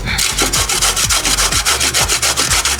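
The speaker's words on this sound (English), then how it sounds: "We're gonna move on to the zucchini. So I just cut the little end off, and we're just gonna grate." Zucchini rasped by hand against a grater in quick, regular back-and-forth strokes, a close, loud scraping rhythm of about four strokes per second.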